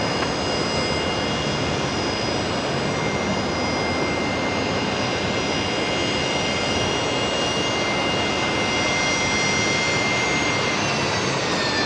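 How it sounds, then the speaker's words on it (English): Fokker airliner taxiing onto its bay at Brisbane Airport, a steady, loud jet engine roar with a faint high whine, sustained and unbroken with no talk. "We're just watching the Fokker there arriving onto the bay."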